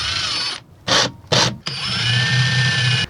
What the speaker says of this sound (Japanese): 天井まで一回ドリル刺して穴開くかやってみます